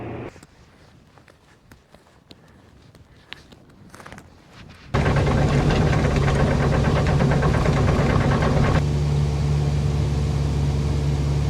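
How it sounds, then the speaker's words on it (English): An excavator engine on a carrot field starts up after quiet outdoor movement and footsteps, then runs loud and steady with a constant drone that later drops to a lower idle. "I got to move the excavator over"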